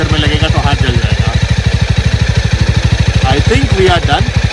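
A Jawa 42 motorcycle engine idles close and loud with a fast, even thumping beat, while someone speaks briefly over it.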